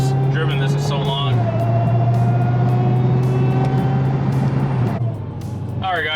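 A Chrysler 300 Redeye cruises on the road, its engine holding a steady low drone that eases off near the end, with cabin noise and a navigation voice cutting in over it.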